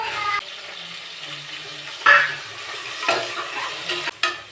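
Tomatoes tossed into a pan of onions for prawn biryani, stirred and sautéed with a low sizzle, a few louder scrapes and clatters of the spoon against the pan near the end.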